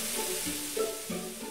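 Meat browning in a hot frying pan, a soft steady sizzle with faint scrapes and stirring as the pieces are turned, quiet and close.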